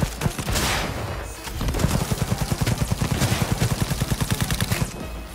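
Rapid bursts of automatic gunfire from a weapon in the video game Cyberpunk 2077, a dense run of evenly spaced shots over a steady loud background, with no talking.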